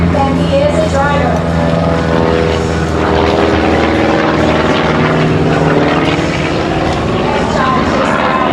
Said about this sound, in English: And John takes Wild Blue through his paces